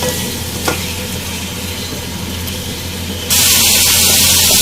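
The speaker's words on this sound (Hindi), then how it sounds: "अच्छी तरह से आपको इसको फ्राई कर लेना है चिकन को" Chicken fries in a pan with garam masala and cumin for Punjabi chicken gravy, a steady close sizzle with stirring that jumps to a louder hiss near the end, with no talking.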